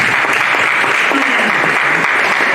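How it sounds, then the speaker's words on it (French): A church audience applauding to acclaim the Lord at a Christian talk, loud dense clapping throughout, with a voice faintly audible underneath. "On acclame le Seigneur pour la jeunesse."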